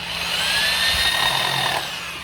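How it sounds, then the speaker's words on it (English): A power drill whirs steadily for a couple of seconds, its high motor whine rising slightly and then easing off, close up. "This power drill kind of heavy."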